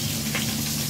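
Arum (maan kochu) cooking with a fish head fries in a pan with a brief, close, continuous sizzle.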